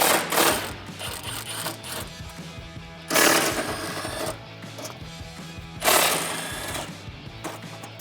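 A ratchet spins out four 10mm bolts holding the factory airbox tray on a 2014-2018 Chevrolet Silverado or GMC Sierra with the 5.3L engine. It sounds as three loud, close, buzzing clicking bursts with quieter handling noise between them.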